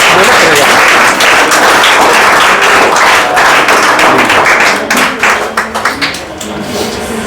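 Audience applause welcoming a student to the front at a coaching class, with dense, steady clapping that carries loudly for several seconds and then thins into scattered claps near the end.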